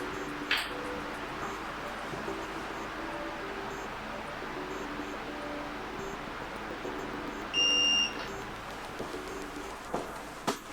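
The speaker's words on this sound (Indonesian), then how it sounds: "saya sudah mendengar bunyi bip panjang" A Xiaomi Smart Standing Fan 2 Pro sounds one clear electronic beep lasting under a second during its reset, rising above steady low background noise, with a couple of faint clicks around it.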